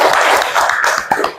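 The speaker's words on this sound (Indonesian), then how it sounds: "tepuk tangan untuk kinestetik dulu" Hands clap loudly and close by during a classroom learning-style lesson, a short run of quick, uneven claps lasting just over a second, with no speech.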